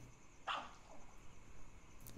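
A dog in a horror video game, one short sharp bark and a fainter follow-up yip against a quiet, low ambient background.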